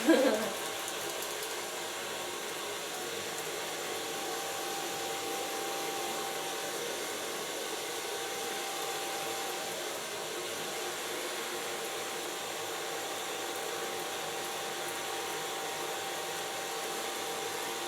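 A blow dryer runs steadily on short platinum blonde hair during a feminine short cut, a constant close whoosh with a brief louder start, no talk over it.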